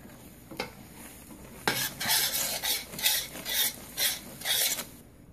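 A spoon stirs melted marshmallow mixture with chopped almonds in a pot on the stove for Rice Krispies treats, making a run of loud, rhythmic scraping strokes up close after a quiet opening with one brief scrape.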